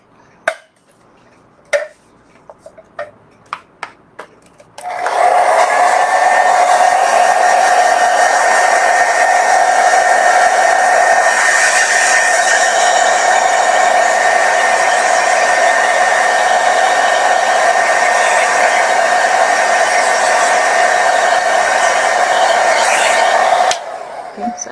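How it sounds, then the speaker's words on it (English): A hair dryer blows steadily and loudly for nearly twenty seconds to dry a watercolor painting, preceded by a few light taps and clicks and ending with an abrupt cutoff. "I'm gonna blow dry it so that it's dry and I can keep working"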